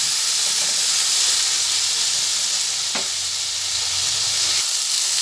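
Grapes fry and get stirred in a hot pan for a sweet-sour grape chutney, with a continuous close sizzle and hiss and a sharp scrape of the spoon near the middle.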